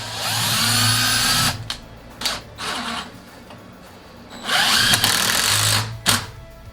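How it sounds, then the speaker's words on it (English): A power drill drives a screw into reclaimed wood in two loud, whining bursts separated by a short pause, with brief trigger blips between them and no talk. "I'm going to run the screw backwards for a second to help keep the wood from splitting out."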